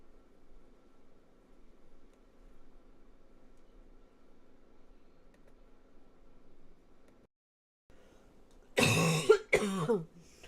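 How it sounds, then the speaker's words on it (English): A quiet hum gives way to a brief silence, then two loud, close coughs in quick succession. "I did not want to cough in your ear, but I did."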